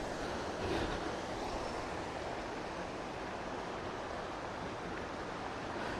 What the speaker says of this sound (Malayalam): ഒരു ചെറിയൊരു വെള്ളച്ചാട്ടം ഉണ്ട് അവിടെ